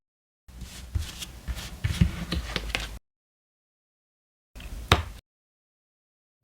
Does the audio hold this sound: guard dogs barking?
no